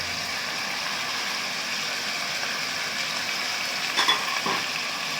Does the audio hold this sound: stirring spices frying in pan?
yes